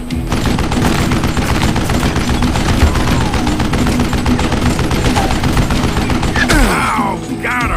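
Rapid, loud gunfire from the Western shooter game Call of Juarez: Gunslinger, with dense volleys of shots crackling continuously before tapering off at the end.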